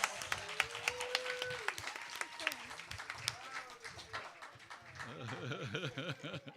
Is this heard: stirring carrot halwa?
no